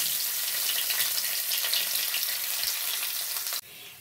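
Chopped capsicum sizzles and fries in hot oil with whole spices while chickpeas are cooked at home, a steady close crackle with some stirring, cutting off abruptly near the end.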